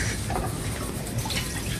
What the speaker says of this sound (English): First, what you gotta do is pour one cup of water.